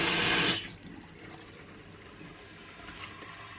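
Running water pours loudly for a moment into a container from a 3-stage reverse osmosis filter, then cuts off, leaving a quiet room with faint trickling.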